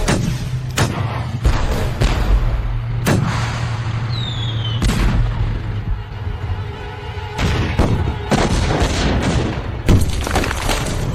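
Gunfire and heavy booms from a battle scene in a Chinese TV war drama, loud repeated shots and thuds in uneven bursts, with a whistling projectile passing partway through.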